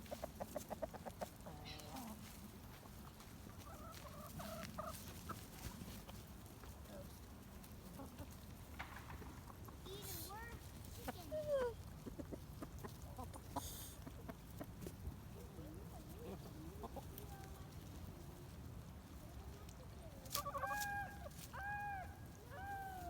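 Farm chickens clucking and calling in irregular bursts, some close and some farther off, over faint low background noise with occasional brief sharper calls.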